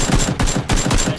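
Rapid automatic gunfire in the PlayerUnknown's Battlegrounds video game, a tight rhythmic burst of repeated shots in quick succession, loud and close with no talk over it.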